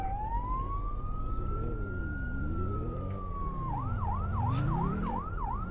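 A police siren in the City Car Driving video game wails in long rising and falling sweeps, then switches to a fast yelping pattern, loud and continuous over a low engine rumble.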